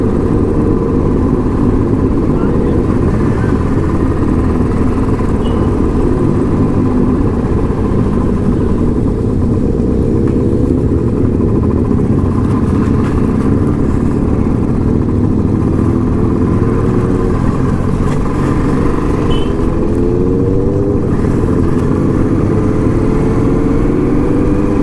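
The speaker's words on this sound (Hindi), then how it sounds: "क्या सीक्वेंस में बाइक जा रही है, एकदम एक के पीछे एक." Motorcycle engines drone steadily and loudly throughout on a village panchayat road near Pune, Maharashtra, with bikes riding one behind another, a continuous close mid-pitched hum with slight rises in revs.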